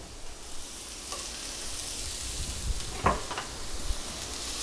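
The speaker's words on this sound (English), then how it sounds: "to a non-stick pan, I'm just going to add 1 or 2 tablespoons of olive oil, and we're going to get our shallot and our ginger going" Shallot and ginger frying in olive oil in a non-stick pan, a continuous close hiss and sizzle with occasional stirring scrapes and a brief louder crackle midway, no talking.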